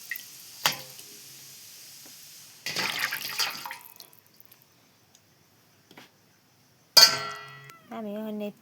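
Pomfret fish being washed in water for a Bengali fish curry, with brief splashes and rinsing bursts separated by quiet gaps, ending in a short clatter and a faint tonal sound.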